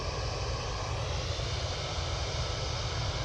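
A Boeing Dreamliner airliner at Manchester Airport, its jet engines giving a steady, loud rumbling roar across the whole stretch.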